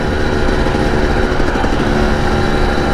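A Husqvarna TE 300i two-stroke dirt bike engine drones loudly and steadily at close range, a continuous buzzing roar with no pauses and no talking.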